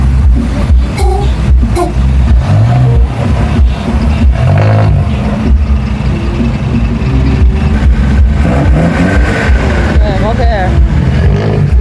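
Loud engine roar and revving from a vehicle's exhaust in a festive convoy procession, heavy and continuous, with someone talking over it throughout.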